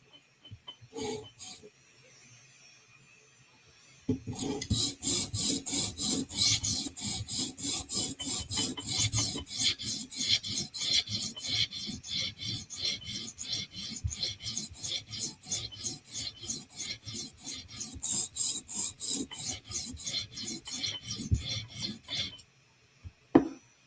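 A custom Para 3 knife blade is sharpened on a TSProf Kadet guided sharpener, with rapid rhythmic rasping strokes of the stone along the edge, close and steady for most of the time after a few isolated scrapes.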